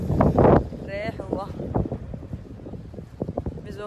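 Gusty wind at the beach buffets the microphone in a loud rush at the start, then eases into a lower blustery roar beneath people's voices.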